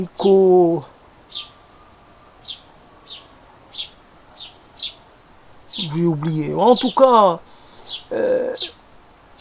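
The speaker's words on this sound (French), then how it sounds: "il y a ce que vous entendez. Il s'agit de cette action que j'ai avec les moineaux, parce que je donne un peu à manger" Sparrows chirp in short, repeated bursts while being fed outdoors, the small tweets spaced steadily and fairly close, with someone speaking French at the start and again over a busier cluster of calls.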